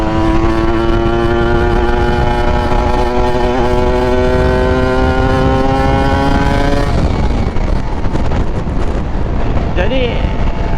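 A tuned, race-spec motorcycle engine built for over 40 HP revs loudly and steadily, its pitch climbing slightly before the tone breaks into rougher, uneven running near the end, with wind noise throughout.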